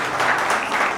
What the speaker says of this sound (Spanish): pido un aplauso por el taller que este año donó para EMUR